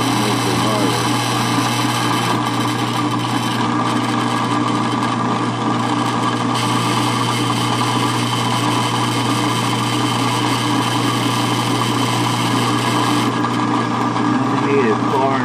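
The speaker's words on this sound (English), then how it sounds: "the next step is going to be to drill a hole inside each end of the length piece." Small drill boring a hole into the end of a wooden dollhouse deck railing piece, a steady continuous whir held throughout at close range, with a low constant hum beneath it.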